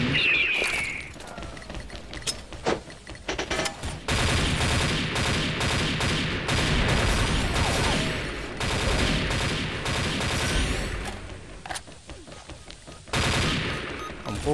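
Gunfire in the online shooter XSHOT, with sustained rapid automatic bursts and scattered single shots and mechanical clicks over about fifteen seconds, loud and continuous with brief pauses between volleys.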